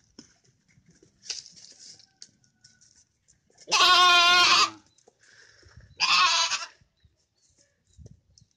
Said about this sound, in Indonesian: Ini seperti ini kambingnya.